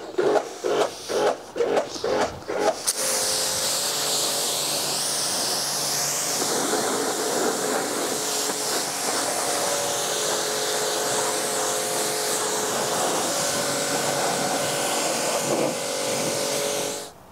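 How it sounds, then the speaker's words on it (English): A BMW E90 3 Series is rinsed off with a water spray, a loud, steady, close hiss that runs continuously after a few short bursts at the start. "it's time to rinse it all off"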